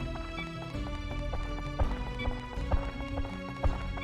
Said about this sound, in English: That sounds like a mummy, probably, judging by the footsteps.